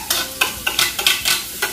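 Onion goes into browned garlic frying in a pan, giving a close sizzle punctuated by quick scraping stir strokes in a fast, irregular rhythm.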